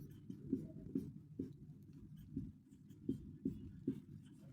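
Handwriting strokes during a class 11 maths lesson on relations and Cartesian products, a steady series of soft scratchy taps and scrapes close by, with no talk.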